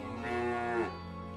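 A single cow gives one drawn-out moo that rises and then falls, faint and somewhat distant, heard alone with no talking.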